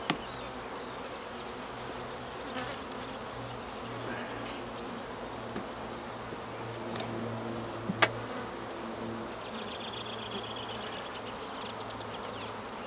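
Honeybees hum in a steady, dense drone from an open beehive during a spring inspection in Reykjavik, close and continuous, with faint clicks and handling noises.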